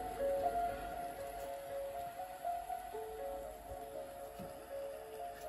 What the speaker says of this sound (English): This is the type of rain I was looking for.